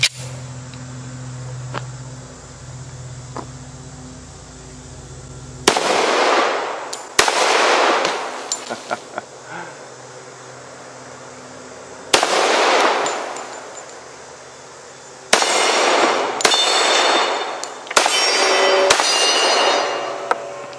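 A 1911 pistol firing old hardball rounds outdoors: about six or seven sharp, loud reports, spaced irregularly over the span, each with a short ringing tail and quiet stretches between.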